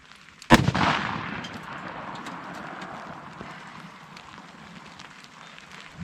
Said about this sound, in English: Now I have my Smith & Wesson Model 29 with a 6-inch barrel, and it's loaded with Winchester White Box 44 Magnum 240 grain jacketed soft point